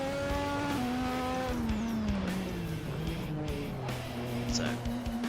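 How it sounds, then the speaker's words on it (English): A Ferrari Formula One car in a racing video game spins its wheels through second gear: a loud engine note rises and sags with slipping revs, near and continuous, with someone talking over it. "just wheel spin the entire way through second gear there."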